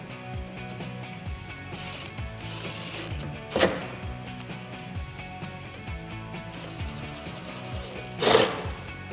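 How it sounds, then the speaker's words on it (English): A 10mm socket ratchet tightens taillight mounting hardware on a 2016-2021 Toyota Tacoma, giving a close run of quick, faint clicking ratchet strokes with two louder knocks, no talk. "we can take our 10mm socket and tighten those up"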